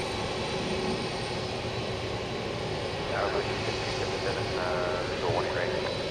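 A Boeing 767 at DFW Airport at night, heard as a faint, steady distant jet engine rumble and whine under outdoor ambience, with a few brief chirps.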